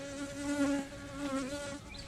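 A steady, droning hum of bees buzzing close around their hive in spring, continuous and moderately loud with slight swells, no voices.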